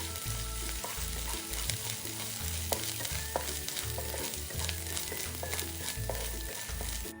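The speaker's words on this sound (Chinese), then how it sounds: "虾米30克，爆炒至虾米溢出香气。" Dried shrimp stir-fried in a hot wok with minced ginger for bamboo shoot rice, a loud continuous sizzle with rhythmic scraping and tossing of the spatula throughout.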